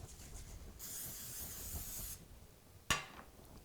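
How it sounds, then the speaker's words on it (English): A steady hiss of cooking spray onto a griddle pan lasts over a second, followed shortly by a sharp metallic click, quiet and close. "We're going to spray it with a little bit of food release, of course."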